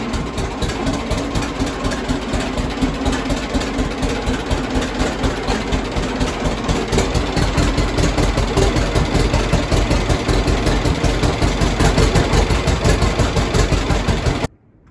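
A John Deere Model A tractor engine runs at raised throttle, a loud close rhythmic two-cylinder chugging that pulses steadily for about fifteen seconds before cutting off abruptly.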